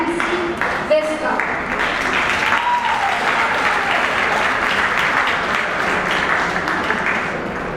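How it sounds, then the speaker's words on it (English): A large audience bursts into a sustained round of applause welcoming a speaker at an Olympic event of the Laconian Federation. The dense clapping stays loud and steady throughout, with faint voices mixed in early on. "Ladies and gentlemen, join your hands, give them a big round of applause."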